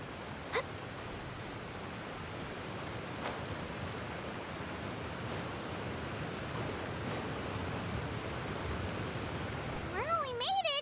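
A powerful waterfall rushes in Genshin Impact, a steady dense roar of falling water throughout, with a short synthetic chime near the end.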